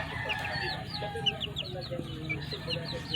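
JB Kelso gamefowl rooster crossed with Sweater, clucking in quick, soft repeated notes amid other chickens and a faint background hum.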